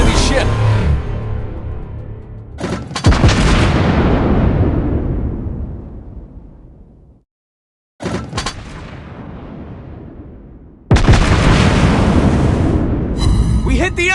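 Warship guns firing on an enemy ship in the mobile naval game Warships Blitz: heavy booming blasts with long rumbling decays, separated by a short silence, then more loud explosive impacts.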